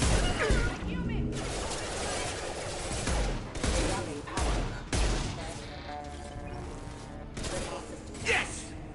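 Dense, continuous gunfire in a Mass Effect 2 squad firefight, with repeated bursts, impacts and crashes, while voices talk over the action.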